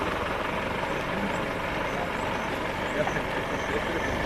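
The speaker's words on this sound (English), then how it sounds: "now this vehicle's just started its engine" A vehicle engine runs at a wildlife safari site beside a dam, producing a steady, even rumble that stays constant throughout without clear breaks.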